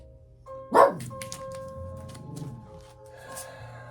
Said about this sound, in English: She's looking out the window and I don't know what she's barking at.